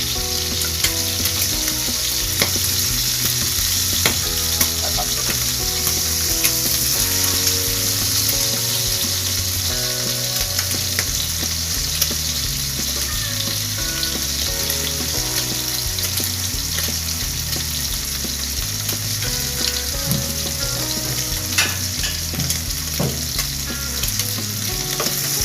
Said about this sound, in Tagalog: piniprito ko muna itong sahog bago ko magluto